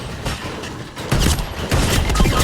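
Rapid Fortnite gunfire crackles in dense bursts, loud and continuous, with heavier volleys building through the second half.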